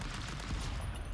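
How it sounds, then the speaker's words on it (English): A missile fired in the artillery game Shellshock Live, heard as a dense, rumbling burst of rapid explosive pops with heavy low-end boom, continuous and loud for about a second. "I'm launching fucking missile."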